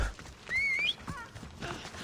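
Horse hooves clip-clopping in Assassin's Creed Odyssey, mixed with a whistle and faint game sounds, at moderate volume.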